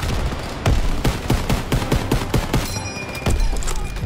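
Rapid gunfire in a World War II battle from the Call of Duty WW2 campaign, loud repeated shots in an irregular burst pattern over dense battlefield noise.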